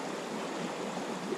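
River flowing steadily behind a spot by the water, a soft continuous rushing wash at low level with no voices.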